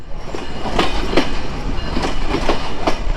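Chilahati Express train pulling into Phulbari railway station, with a steady rumble of wheels on rails and a few rhythmic clacks over the joints, loud and close throughout.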